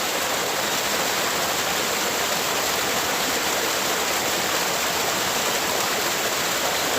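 Running water rushes in a constant, loud, even wash of noise, like a close stream or small waterfall, with no other sounds.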